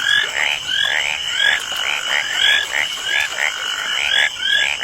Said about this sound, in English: amphibians, namely frogs and toads, who are reputed to croak louder before rainfall